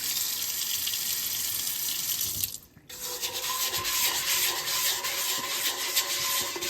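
Water runs steadily from a sink tap into a stainless steel pot, a broad hissing splash that cuts out briefly partway through and then resumes, close by with no talking.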